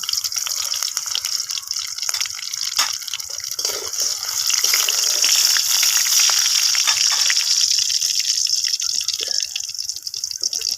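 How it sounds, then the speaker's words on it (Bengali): Chopped garlic and ginger sizzle in hot oil in a home kitchen. A steady, bright crackling hiss runs throughout and swells slightly in the middle, with scattered pops and scrapes. "এবার দিয়ে দেবেন তেলের ভিতরে কিছু অল্প একটু রসুন রসুন কুচি আর হচ্ছে একটু আদা কুচি"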